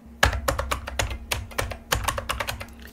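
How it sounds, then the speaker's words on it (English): Rapid keystrokes on a computer keyboard enter a search string, a quick irregular run of crisp, close taps and clacks heard alone against a faint steady hum. "And let's type my search string."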